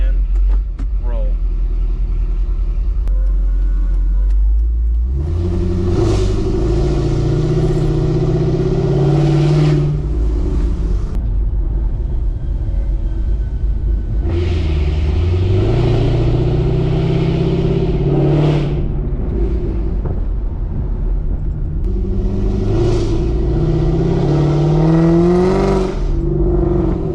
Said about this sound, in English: So damn loud. It's so loud. The car is so loud.